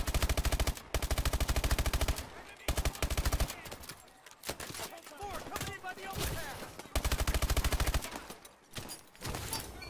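Sustained automatic gunfire in Call of Duty Advanced Warfare, loud rapid bursts of machine-gun fire that repeat with short gaps between them, with a dense and close-sounding midsection full of mixed battle noise.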